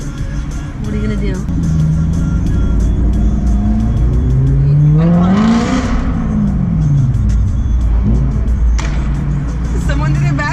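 A loud BMW M3 sports car engine revs hard, its pitch sweeping up and falling back before settling into a deep, rumbling idle, with people talking inside the car over it.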